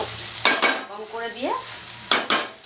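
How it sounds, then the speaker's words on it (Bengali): Chilli chicken stirred in a pan, Bengali style, with a few sharp scraping clatters of a spoon against the pan, close, and a short voiced sound between them. "এভাবে নাড়তে থাকবো।"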